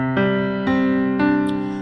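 A short piano figure with three evenly spaced struck notes, each ringing into the next as the tones sustain and overlap, heard up close without speech.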